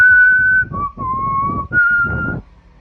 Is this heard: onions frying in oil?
no